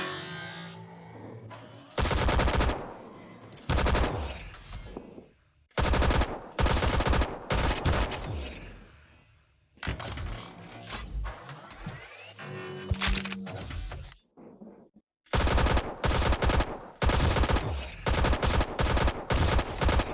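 Weapon fire in the game Crunch Element Alpha comes in repeated loud, close bursts of rapid automatic shots, separated by short quiet gaps and stretches of lower mechanical noise across about twenty seconds.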